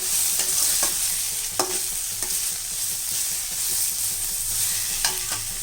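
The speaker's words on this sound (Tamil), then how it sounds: "வெங்காயம் வதங்கின உடனே இதில் மூணு மீடியம் சைஸ் தக்காளி போட்டுக்கலாம் நல்லா பொடியாக அரிஞ்சு போட்டுக்கோங்க அப்போ தான் நல்லா வதங்கி வரும் இதையும் நல்லா வதக்கிடலாம்" Finely chopped tomatoes and onions sauté in a pan for Chettinad chicken curry, with a steady sizzle and repeated scraping strokes of a spoon stirring nearby, and no one talking.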